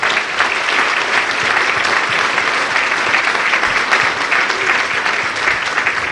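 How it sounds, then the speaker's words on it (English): Loud, sustained applause from an audience of business leaders and entrepreneurs welcoming a keynote speaker, a dense, even roar of many hands clapping without a break. "give him a very warm round of applause"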